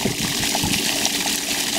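Water gushes steadily from the outlet of an Intex 2800 GPH sand filter pump during a pool backwash, a close, continuous splashing rush with no talk.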